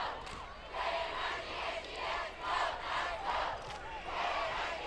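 A home crowd at a high school football game, Summit vs Nolensville, cheers and yells in repeated surges from the stands. The sound is distant and fairly faint, and a commentator's voice is barely present.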